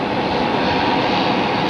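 A Swearingen Metroliner twin-engine turboprop at Phoenix Sky Harbor airport gives a loud, steady, close engine roar that fills the whole short stretch without a break, with no voices.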